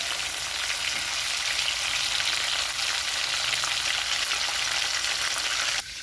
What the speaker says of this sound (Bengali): চিংড়ি মাছটা ভাজা হয়ে গেছে, খুব বেশি ভাজবো না, শক্ত হয়ে যাবে